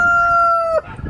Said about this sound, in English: And then we have some Cerama roosters